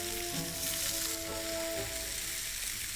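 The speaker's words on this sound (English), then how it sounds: "That frying is what gives everything its flavour." Food fries in butter in a pan, giving a steady, close crackling sizzle with faint pops throughout and no voices.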